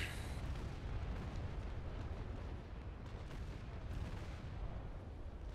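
Mortar brig ships fire in a naval battle in the game Naval Action, a continuous dense rumble of booming cannon blasts rolling together at a steady low roar with no talk.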